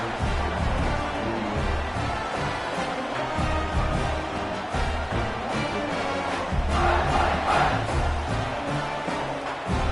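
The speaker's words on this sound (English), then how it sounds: "this crowd is buzzing after that last score" A stadium crowd in a college football video game, LSU on the road, roars in a dense, continuous wash of cheering that holds loud and steady throughout, with a slight swell near the end and no clear talk.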